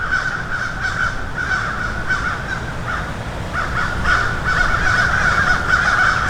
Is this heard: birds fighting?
yes